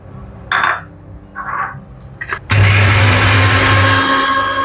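After a few short metallic clinks and knocks, a mixer grinder starts up loud and close and whirs steadily as it grinds soaked rice into a paste for firni.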